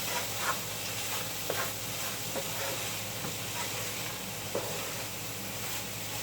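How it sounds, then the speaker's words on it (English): Lentils sautéing in a pan with onions, tomatoes and spices give a soft, steady sizzle and hiss at low volume, with a few faint clicks of stirring and no talking. "you want to saute these lentils for a minute with the onions and the tomatoes and all the spices"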